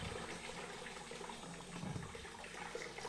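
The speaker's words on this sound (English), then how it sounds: "we've got a nice stream of water" Water from a boat's wet exhaust pump streams steadily and splashes into a bucket, a continuous faint gushing with a low hum beneath it.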